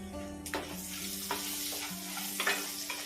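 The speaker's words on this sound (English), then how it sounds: "Just stir it." Vegetables stirred and sizzling in a hot pan with oyster sauce, chili and mixed vegetables, a steady frying hiss broken by several scraping stir strokes at close range.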